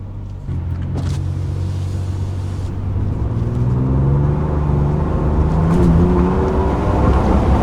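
A Ford Ranger Raptor pickup drives over rough roads in sport mode, its engine loud and near, droning low and then rising steadily in pitch as it accelerates, with a few bumps and knocks from the cabin.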